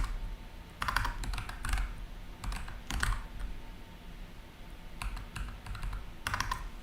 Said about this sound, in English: Well, actually, let's type it.